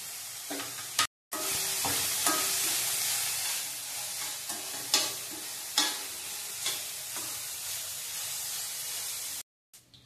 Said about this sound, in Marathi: आपण कांदा टोमॅटो भाजून घेऊया।